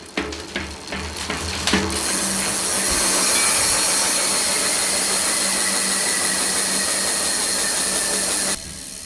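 A steady, loud freewheel buzz comes from the rear hub of an old Schwinn Moab bicycle. After a few scattered clicks at the start it holds an even, continuous whir for several seconds, then drops away near the end.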